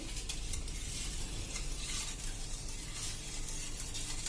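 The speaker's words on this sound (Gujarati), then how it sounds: "તો હવે આપણે ખાંડ નાખ્યા પછી એને આ રીતે આપણે બધું મિક્સ કરી લેશું" Thick, creamy Punjabi lassi being stirred with sugar in a bowl, a continuous soft scraping and swishing close by, steady for several seconds with no voice.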